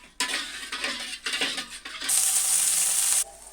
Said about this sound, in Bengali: এখন আমি সমস্ত মশলাগুলো ভালোভাবে কষিয়ে নিব।